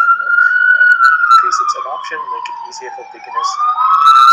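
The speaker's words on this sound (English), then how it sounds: "We're right by the street and there's an ambulance coming." An ambulance siren wails loudly on a city street in SoMa, its tone sliding downward as it passes close by, with someone talking over it throughout.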